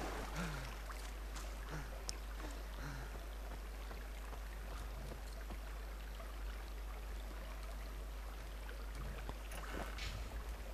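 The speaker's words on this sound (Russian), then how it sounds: "Давайте лучше на лодке." Water sloshes and splashes steadily as a boat moves along in the video game Far Cry 3, with a constant low engine-like hum underneath and no voices.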